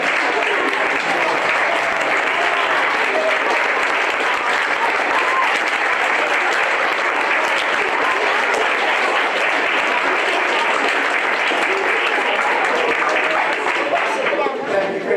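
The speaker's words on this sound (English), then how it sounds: "So if we could have a round of applause." A school committee meeting room fills with a sustained round of applause for student performers, dense steady clapping from many hands that continues for the full stretch, loud and close, with a few voices mixed in.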